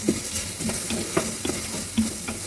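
Tomatoes with onion being stirred in a cooking pan: a constant sizzle under rhythmic scraping strokes of the spatula, roughly two or three per second, with no voices.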